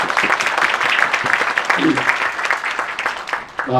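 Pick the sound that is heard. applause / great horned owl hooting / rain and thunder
applause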